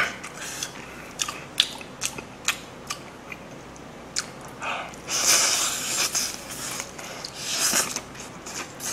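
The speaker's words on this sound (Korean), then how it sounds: "여러분 나 이렇게 뜨거운 치킨 처음 먹어봐요" A hot fried chicken drumstick from BBQ, golden style, is bitten and chewed up close, with loud, crisp crunches that come in an uneven series and grow denser and heavier toward the end, with no talking.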